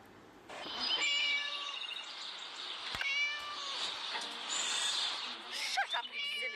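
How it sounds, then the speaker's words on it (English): Cat meowing in the Scary Teacher 3D video game, a series of loud, drawn-out wavering meows and yowls over a busy game soundtrack, with a sharp thud midway. "Shut up, you silly cat."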